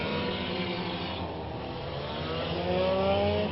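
Race cars in a Barber Pole race at Orange Show Speedway roar around the oval, a continuous layered engine drone of several cars at moderate distance with rising pitch toward the end.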